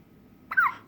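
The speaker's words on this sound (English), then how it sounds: "still got the hiccups" A young child gives a single short hiccup, a quick faint squeak-like catch of breath after a moment of near silence, with no other voices.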